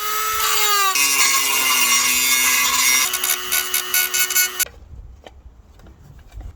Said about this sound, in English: The best is to use a Dremel tool.